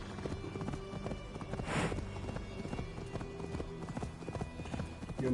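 Horse hooves galloping at a steady clip-clop rhythm in Assassin's Creed Valhalla, close and continuous, over a dense game soundtrack and ambient background.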